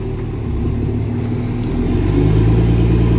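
A work truck's engine runs steadily in drive under load while warming up, a continuous mid-range rumble that deepens and grows slightly louder toward the end, with no talking.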